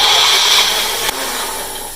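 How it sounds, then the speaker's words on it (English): Blender whirring as it purees aloe vera, a loud, close, high-pitched motor whine that drops in pitch partway through and keeps running. "you want to put it in your blender"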